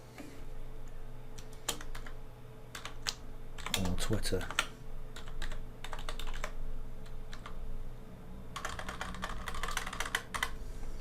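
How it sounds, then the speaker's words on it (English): Computer keyboard typing in quick irregular bursts of clicks, close and clear, with someone talking intermittently over it. "See what I mean by typing?"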